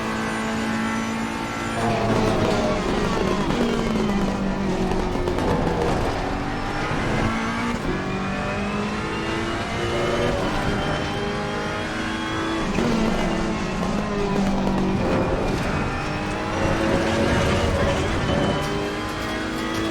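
A race car roars steadily through a flying lap in a racing video game on an aggressive default setup, with the engine climbing and dropping through gear changes and braking zones, loud and continuous throughout.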